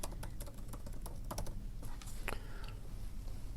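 Steady keyboard typing at a computer, a run of quick soft key clicks at close range with low background hum and no talking.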